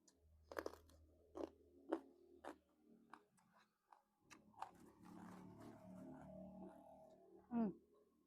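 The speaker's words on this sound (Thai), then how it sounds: "กินแต่เบาๆแล้วปะเนี่ย" Close crunching and chewing of crisp seafood, with loud bites and rhythmic mastication, some quiet pauses, and a short vocal sound near the end.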